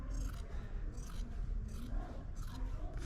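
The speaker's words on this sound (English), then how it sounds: "we're going to cut the sleeves off with the seam, cutting off the seam too" Scissors cutting the sleeves off a cotton T-shirt along the seam, about five rhythmic crunching snips close up, each one a brief scraping burst through fabric.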